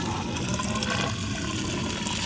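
Liquid effluent pours into a biogas digester fed with food scraps and grass clippings, a steady close gush of water that runs on without a break.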